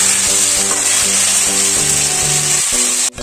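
Loud, dense sizzle of cabbage bhujia frying in oil in a pan, continuous and close, with faint low clinks underneath and a sudden drop near the end.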